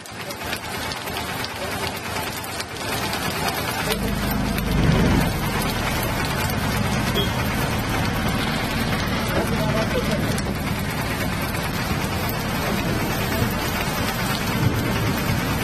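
Heavy rain pours down steadily in Chikkamagaluru, with a low rumble of thunder rolling through the middle of the downpour. A voice is faintly present under the constant hiss of the rain.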